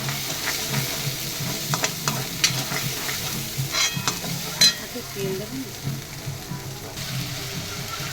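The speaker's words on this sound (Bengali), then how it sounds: "মশলাটাকে ভালো করে ভাজবো" Masala spiced with chili powder sizzles and fries in a pan for biryani, with steady crackling and intermittent stirring scrapes at close range, fairly quiet overall.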